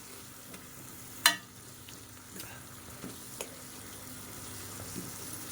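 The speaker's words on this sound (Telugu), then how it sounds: "చూడండి చక్కగా వేగుతుంది" Methi leaves and tomato curry frying in a pan give a faint, steady sizzle, with one sharp pop and a few soft clicks.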